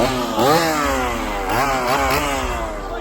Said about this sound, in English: So they brought back chainsaws in the Simpsons area.